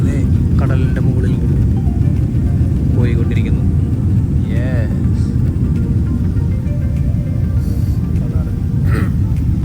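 Inside a passenger plane cruising above the sea, a constant heavy rumble of cabin noise drones on evenly while a voice speaks a few words over it.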